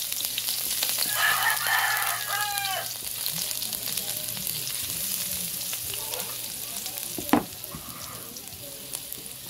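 A rooster crows once, fairly distant, over the steady sizzle of oil heating in a home kitchen, followed by a sharp clatter of utensils.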